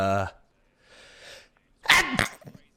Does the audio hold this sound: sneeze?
yes